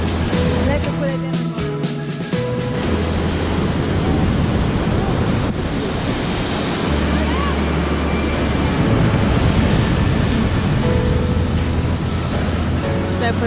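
Sea waves along the coast near Vatnajökull glacier in Iceland, a loud, continuous surf roar mixed with heavy wind buffeting on the microphone, with a few brief tonal hums early on.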